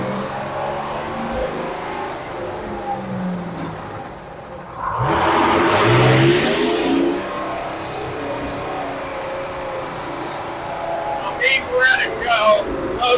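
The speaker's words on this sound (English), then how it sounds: "I'm starting out in first gear. Normally you can pull out in second with this truck." A heavily loaded vintage truck at a vintage construction show pulls away in first gear, its engine rising into a louder rumbling surge midway while nearby voices talk over the steady running.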